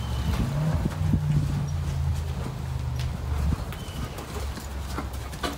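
Paso Fino horse hooves clop steadily on the ground at a walking pace amid outdoor ambience, with faint bird calls in the background.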